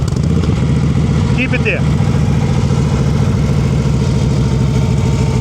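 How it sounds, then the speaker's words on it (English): A motorcycle engine idles roughly and close to stalling, shaking because the clutch preload is too low, a steady low rumble with a brief higher tone, while a person speaks briefly over it. "Your whole engine is shaking, so you're almost stalling. Let me hear your preload."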